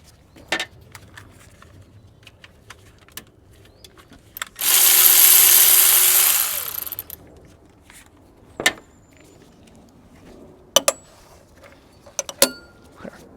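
A power tool spins for about two seconds as it backs a 13 mm bolt out of the intake manifold on a GM Vortec V8 in an OBS Chevy truck. Scattered metallic clinks and taps come before and after the burst in a quiet garage.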